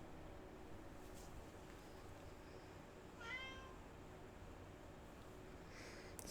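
A cat meows once in the video game Atomfall, a short harmonic cry standing out briefly over a steady low background hum.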